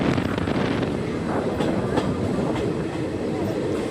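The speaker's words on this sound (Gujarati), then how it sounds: "ભાયાવદરમાં ટ્રેન એન્ટર થાય છે." A passenger train on the Jetalsar to Porbandar line enters Bhayavadar station, a dense, continuous rumble of wheels and carriages with faint rhythmic clatter throughout.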